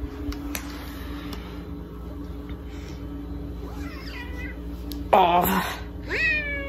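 A pet cat in a home sits in a Christmas tree, meowing twice near the end, the first meow sharp and close, the second rising, over a low steady household hum, with a brief spoken word.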